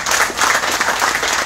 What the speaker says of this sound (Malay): Beri tepukan rakan-rakan kita ni.